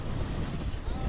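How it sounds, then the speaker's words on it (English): Strong wind gusts buffet an outdoor microphone during flood coverage at a submerged Houston intersection, a dense, loud, continuous roaring rumble. "these gusts are still like no joke out here"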